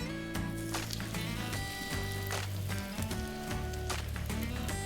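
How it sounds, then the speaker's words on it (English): Steady crackling sizzle of zucchini fritters frying in olive oil in a pan, continuous and close, with music playing over it and no talking. "So you just want a nice gentle sizzle, get some good colour"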